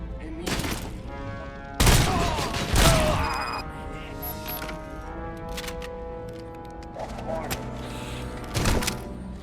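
Gunshots ring out in Robocop Rogue City as an enemy is shot, a few loud separate blasts with ringing tails, followed by quieter in-game sound and music.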